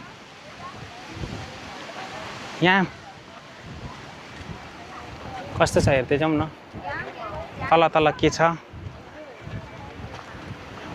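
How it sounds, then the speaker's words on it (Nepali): Wind gusts over bare rocks at an outdoor site in Sri Lanka, a steady rushing buffet on the microphone that runs beneath intermittent voices. "यहाँ चाहिँ हावा चलिरहेछ"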